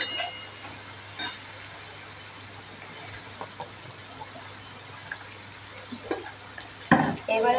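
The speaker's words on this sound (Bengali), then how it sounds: "এবার আলুর মধ্যে আমি গাজরটা অ্যাড করে এই গাজরটা এবার এই তেলের মধ্যে এই আলুর সাথে ভালো করে একটু নাড়িয়ে নিচ্ছি।" Carrots stirred into fried potatoes in hot oil in a pan, a steady low sizzle with occasional scraping stir sounds and a louder scrape near the end, close up with no talking.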